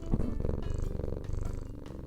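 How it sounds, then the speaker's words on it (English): Humph the cat purrs close and loud, a steady rhythmic rumble of repeated breaths with no talking over it. "You guys want to hear Humph purring?"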